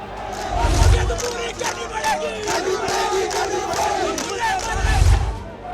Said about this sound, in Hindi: शिमला की सड़कों पर यह प्रदर्शन हो रहा है।